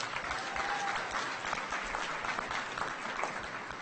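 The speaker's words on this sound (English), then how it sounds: "Please give those folks a round of applause." An audience at an annual awards ceremony claps steadily for the finalists just named, a continuous, fairly quiet wash of many hands with no voices over it.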